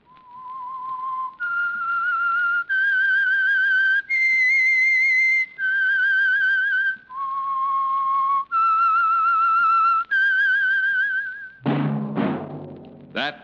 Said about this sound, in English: That whistle is your signal for the Signal Oil Program, The Whistler.